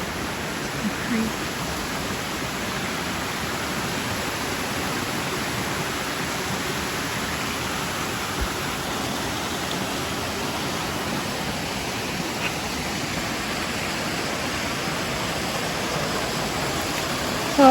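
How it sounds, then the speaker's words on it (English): Creek water flows steadily beside a trail near a small bridge and tiny waterfall, a continuous broadband rush holding even from start to end with no breaks. "The creek."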